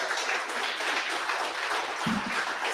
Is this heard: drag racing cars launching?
no